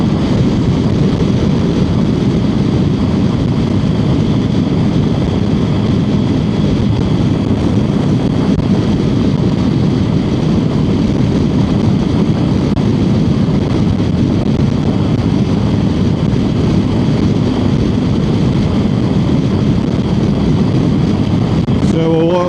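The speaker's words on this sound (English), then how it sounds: "Plane taking off from one of those two runways I was talking about." A fixed-wing airplane taking off from a runway, a steady, loud, broad roar heard from outdoors under heavy wind buffeting on the microphone, continuing throughout without pause.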